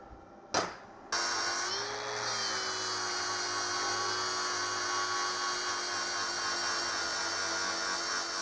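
An angle grinder spins up with a sharp start and then grinds down a steel weld on a welding cart frame, holding a loud, steady high whine with a lower hum throughout.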